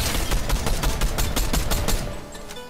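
Rapid bursts of gunfire from the video game Fortnite, a dense run of shots at a steady pace for about two seconds, loud and close, then tapering off near the end.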